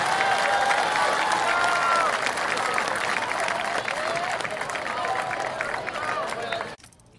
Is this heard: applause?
yes